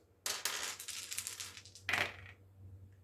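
Dice rolled during a board game clatter loudly across a hard surface in a rattling burst, followed by a second brief sharp clatter, close and without talk.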